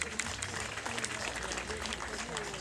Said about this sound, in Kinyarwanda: munyemerere mu bakomera amashyi menshi cyane